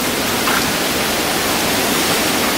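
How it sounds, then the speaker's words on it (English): Hurricane Irma's winds of up to 100 mph roar at midnight outside a hotel at Disney's Port Orleans Riverside resort, a dense, unbroken rushing noise that stays loud and constant throughout. "What you're looking at is up to 100-mile-an-hour winds."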